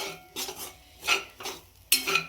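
Semolina for upma is roasted in a pan at home, with a spoon scraping and clinking against the metal in several separate bursts of stirring, close and moderately quiet.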